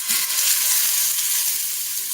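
A bright, steady sizzle of weathervane scallops frying in hot oil, close and continuous with a constant crackling hiss.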